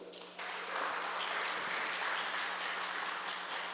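A church congregation applauds during a Friday service, sustained dense clapping that swells after a brief quieter start and holds steady and loud throughout, with a faint low hum underneath.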